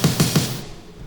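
A hi-hat drum sample in Logic Pro plays three quick, crisp hits in a row, then rings briefly into a fading tail, alone with no voices.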